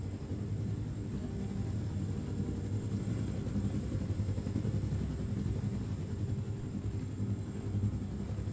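A helicopter in the shooter game Wolfenstein: The New Order gives off a steady, loud low rotor and engine rumble that holds unbroken throughout, with no talking over it.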